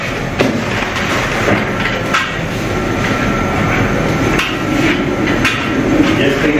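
Loose powder is knocked and broken away from laser-sintered 3D-printed parts in a steady run of dull taps and scraping knocks over a constant loud machine-room drone.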